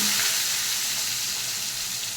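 Cut potatoes hit hot oil tempered with black cumin seeds, producing a steady, dense sizzle that stays loud and close throughout with no voices.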